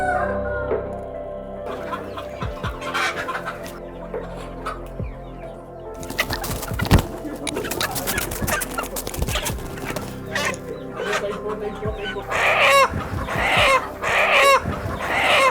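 Country chickens at a village chicken farm cluck and squawk repeatedly at close range, with occasional wing flaps and scattered knocks against a quiet background, no talking.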